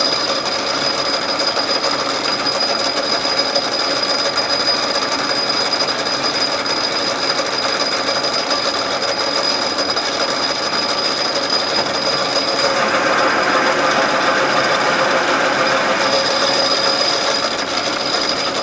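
A metal lathe cuts threads on a collet chuck backing plate, giving a steady, even machining hum with a faint ringing whine that grows slightly louder partway through, with no talking.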